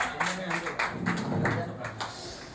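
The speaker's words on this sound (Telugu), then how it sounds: "క్లాప్స్ కొట్టండి." A short burst of audience clapping at an anniversary celebration, a few sharp claps in a loose rhythm beneath a person speaking over it.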